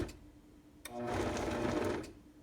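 A blending bowl grinds apples with no liquid added, starting with a sudden motor whir that holds a steady, busy mechanical buzz for about a second before cutting off, close and loud, with no talking.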